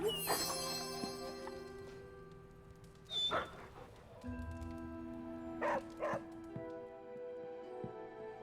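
A dog in the PC game Marvel's Midnight Suns gives a few short yips and soft whimpers amid game music and ambience, with brief bursts standing out near the middle and again later.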